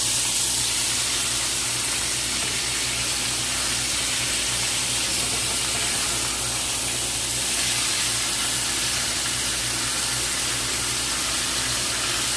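Ribeye steaks sizzle in a hot pan after being flipped, giving off a steady, loud hissing and crackling that continues unbroken, with a faint background hum underneath.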